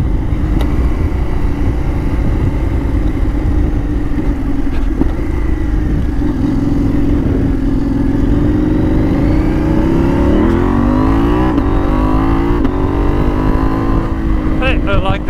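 A KTM adventure motorcycle ridden on dirt in South Africa accelerates hard, its engine note rising through quick-shifted gears in a steady loud roar, with wind buffeting throughout.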